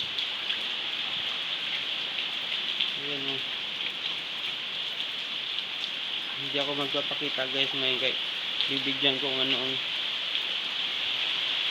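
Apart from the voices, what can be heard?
heavy rain falling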